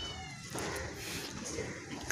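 A cat at Sewri Fort in Mumbai gives a short meow within busy outdoor ambience, fairly faint against the surrounding noise.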